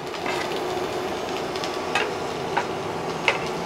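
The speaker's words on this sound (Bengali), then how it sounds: "আবার এর সঙ্গে মিশিয়ে ভালোভাবে ফ্রাই করে নেব" Onion and ginger-garlic paste fry in a pan, a steady soft sizzle running throughout with a few brief clinks of stirring, close and even in level, no talking.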